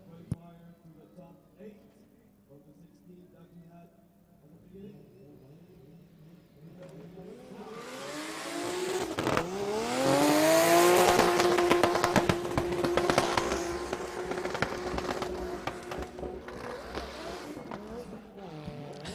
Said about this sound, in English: As we see Gremas do a crazy burnout leaving the track.